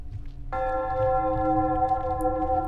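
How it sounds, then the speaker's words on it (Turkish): A church bell in the horror video game Wick strikes once and rings on with a sustained, resonant metallic tone that slowly fades, heard alone over a faint low background. "Bak yine çan sesini duydunuz."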